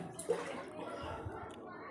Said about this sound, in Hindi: चावल में वॉश कर रही हूँ।